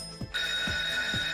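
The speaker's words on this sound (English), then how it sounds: "Ringing the bell." Bell chime in an online slot game during free spins, a bright sustained ringing tone with soft repeated thumps underneath, loud and close, no speech.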